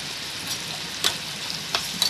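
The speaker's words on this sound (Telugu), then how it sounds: "ఒక 2 స్పూన్లు సరిపోతుందండి అల్లం వెల్లుల్లి పేస్ట్. ఇది పచ్చివాసన పోయేంత వరకు కూడా వేగిపోవాలి." Ginger garlic paste fries in a pan with a steady, close sizzle, broken by a few quick scraping stirs.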